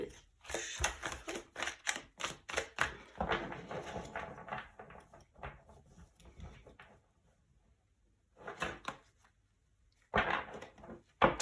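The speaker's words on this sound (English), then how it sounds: "let's enjoy my clumsy shuffling because the cards are too big for my hands." Oversized angel tarot cards are shuffled clumsily by hand, giving bursts of rapid papery flicks and riffles that stop, pause near silence, then resume in short close flurries.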